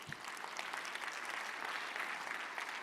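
Audience applause at a talk on in-house design teams, steady and fairly distant, a continuous wash of clapping without a break.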